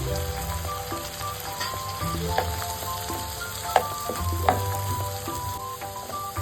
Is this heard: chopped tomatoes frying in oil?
yes